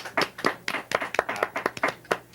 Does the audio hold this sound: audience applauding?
yes